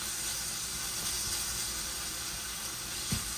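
Ground beef browns in a pan, giving a constant close hiss and sizzle with a faint stir near the end.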